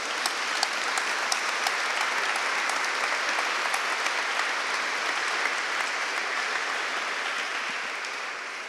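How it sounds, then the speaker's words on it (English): An audience gives a sustained round of applause for teacher Mark McKee, steady dense clapping filling the room from start to finish with no talk over it. "He needs a round of applause,"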